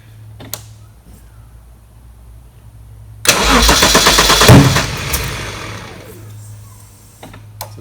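A Jaguar XJS engine, upgraded from 3.6 to 4.0 litres on an aftermarket ECU with over-advanced ignition timing, cranks and catches loudly for a couple of seconds, with rough popping as it sputters, then fades back to quiet.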